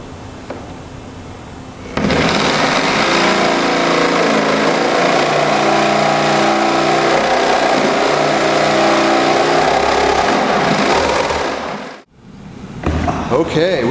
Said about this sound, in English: We've got the bit in the old jigsaw with the tape on there for scratch protection.